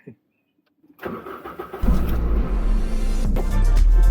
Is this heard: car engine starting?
yes